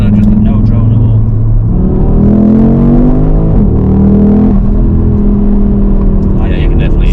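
An Audi RS3 8Y with an aftermarket exhaust rumbles deep and loud from inside the cabin while driving, its pitch rising and falling through revs, with people talking over the drone.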